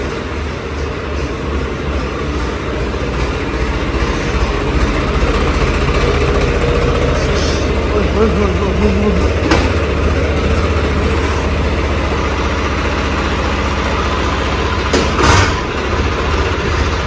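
A Swraj 855 tractor engine idles loud and close with a steady low rumble that holds unbroken throughout, plus a few faint clicks and rattles, with no talking.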